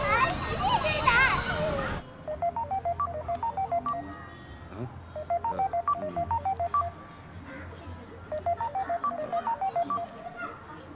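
A telephone keypad dials a number: three quick bursts of evenly spaced tones, each a rapid run of beeps, with a brief burst of noisy voices at the start.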